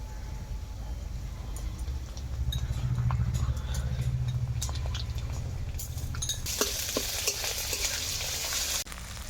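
Ginger and garlic paste frying with onion and chilli in a pan, a steady low sizzle broken by clinks and scrapes of a spoon stirring, then a sharper, brighter hiss near the end as the pan heats up.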